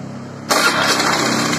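A small Honda Scoopy fuel-injected scooter engine kicks into life abruptly, a short starter burst settling straight into a steady, close running drone; the scooter has white exhaust smoke and keeps stalling.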